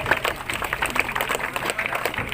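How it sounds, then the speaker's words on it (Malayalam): An audience at a street magic show performing the Great Indian Mango Tree trick claps continuously in a dense, crackling burst of applause. "കയ്യടി നിർത്തണ്ട കയ്യടി കൂടട്ടെ കയ്യടി കൂടട്ടെ"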